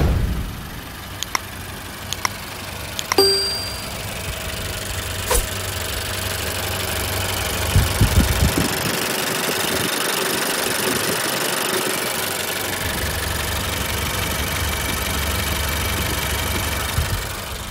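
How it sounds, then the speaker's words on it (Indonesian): A Honda Stepwgn engine idles with the air conditioning on while both the radiator and condenser fan motors run, giving a steady mid-low hum and whir with a few brief clicks early on, heard alone. "bila on aircon, dua-dua kipas akan jalan"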